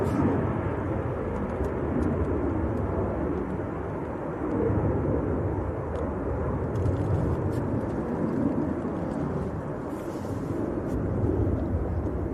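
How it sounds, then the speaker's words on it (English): EasyJet airliner from Geneva on final approach at Manchester Airport on a windy day, a steady broad engine rumble with roaring wind, distant and continuous, no talk. "on finals we've got EasyJet from Geneva"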